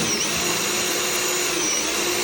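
A power drill bores steadily into steel plates on a welded column, a continuous loud whirring grind running unbroken for the whole stretch with no voices over it.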